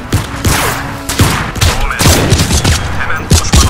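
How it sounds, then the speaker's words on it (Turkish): Explosions and gunfire in the video game Crysis Remastered, a loud, close barrage of booming blasts and sharp cracks in quick irregular succession with no pause between them. "Yanlışlıkla attık bombayı."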